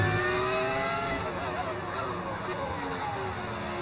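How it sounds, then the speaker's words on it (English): A high-pitched V10 racing car engine in the video game F1 25 wails steadily, its harmonics sliding as it revs, with a constant loud roar throughout. "That is the beauty of the V10 engine."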